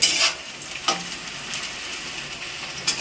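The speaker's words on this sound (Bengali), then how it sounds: "এর পাশে আমি কিছুটা রসুনও ভেজে নিচ্ছি" Garlic frying alongside onion in a pan for a shrimp mash dish, a steady close sizzle with a few brighter crackling spurts, no talk.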